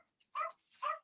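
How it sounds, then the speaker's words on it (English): A puppy giving two quick, high yipping barks close by, separated by a brief pause. "Is that a dog?"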